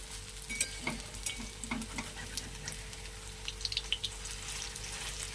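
Lentil fritters (dal bora) frying in hot oil, a faint, steady sizzle with small scattered crackles and light stirring, no voices.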